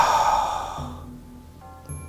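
Sa-man breathing exercise: a long, loud, breathy exhalation close to the microphone that fades out over about a second, followed by quiet with faint tonal hums.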